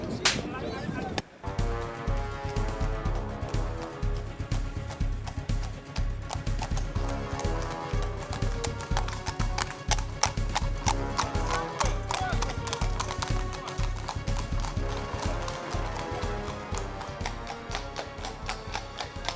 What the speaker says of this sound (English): Everywhere one looks, gypsy horses are being displayed, either tethered on a line or being flashed for the public